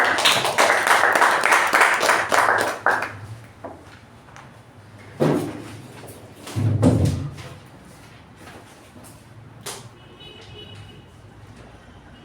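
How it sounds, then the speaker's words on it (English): Audience applause at a Toastmasters club meeting fills the first three seconds as dense, steady clapping, then gives way to a few scattered knocks and quieter room noise. "Round of applause, everyone."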